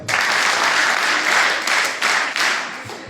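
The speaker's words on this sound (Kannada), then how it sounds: "ಅವ್ರಿಗೊಂದು ಚಪ್ಪಾಳೆ ಹೊಡಿರಿ ಈಗ" An audience at a public talk on democracy and voting breaks into loud, sustained applause, a dense burst of many hands clapping together that swells and pulses for a few seconds before tapering off.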